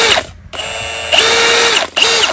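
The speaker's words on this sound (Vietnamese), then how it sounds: "Cái này là 3 chức năng: bắn vít, phân gỗ, phân sắt, có búa để phân tường, phân bê tông" A Milwaukee or Makita cordless hammer drill with a 13 mm Autolock steel chuck runs loud and close in three whirring bursts separated by short pauses, the motor pitch rising as each burst spins up, with no talking.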